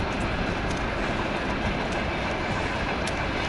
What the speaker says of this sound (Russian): Слышно, поезд уже. К станции подходим.